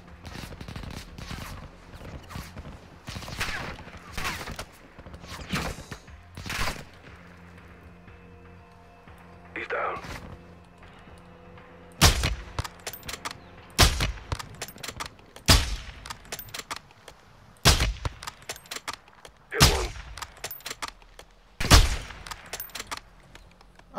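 Gunfire in Call of Duty: Modern Warfare II: scattered close shots early on, then sharp loud single reports and short bursts spaced a second or two apart over low ambient game noise.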